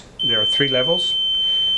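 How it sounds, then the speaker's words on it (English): A GIT XA1 glove tester's beeper sounds to mark the end of a leak test cycle, holding a steady, shrill, continuous tone while a person speaks briefly over its start. "What you just heard is the beeper that indicates that the leak test cycle has concluded."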